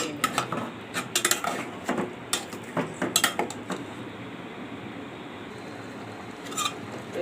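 Mutton being stirred with ground chili in a pot, a burst of rapid metallic scraping and clinking of a spoon against the pot, then a quieter sizzle.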